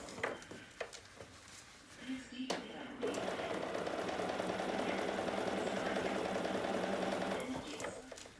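A sewing machine stitches quilt binding in the ditch, a steady fast whirring buzz starting after a few soft handling clicks and running continuously before easing off at the end.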